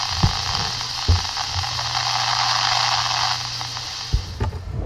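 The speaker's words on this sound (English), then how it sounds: "It's a liquid CPU cooling upgrade kit because my PC CPU fan is loud." A loud PC CPU cooling fan idling, with a steady broadband whoosh and hum filling the clip alone, broken by a few brief handling knocks near the start and end.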